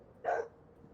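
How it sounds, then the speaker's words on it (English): A neighborhood dog gives a single short bark, faint and at a distance, standing alone against a quiet background. "someone's dog is barking apparently"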